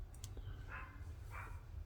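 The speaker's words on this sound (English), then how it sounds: "my neighbor has a dog that is an asshole. Barks at everything." A neighbor's dog barks twice in the distance, two faint muffled barks about half a second apart over a steady low background hum.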